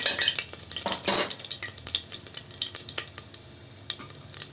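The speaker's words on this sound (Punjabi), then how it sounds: "ਤੇ ਆਇਲ ਆਪਣਾ ਮੈਂ ਪਹਿਲਾਂ ਹੀ ਧਰਤਾ ਸੀ ਗਰਮ ਹੋ ਰਿਹਾ ਹੈ ਤੇ ਹੁਣ ਇਹਦੇ ਵਿੱਚ ਆਪਾਂ ਜੀਰਾ ਪਾ" Cumin seeds with dried coriander and black pepper sizzle in hot oil, a steady crackling fry with scraping stirs and a few utensil clinks against the pan, close and alone with no voices.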